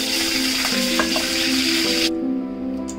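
Hot sesame oil, reused from frying brinjal, sizzles in a pan for kalyana kara kuzhambu. A close, steady hiss with faint tonal hum runs unbroken, then cuts off abruptly near the end.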